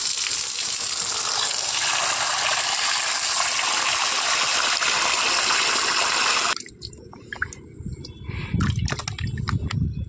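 Flour dough being washed under running water: a steady broadband rush of water for about six seconds, then it stops and gives way to scattered squelches, drips and light handling noises.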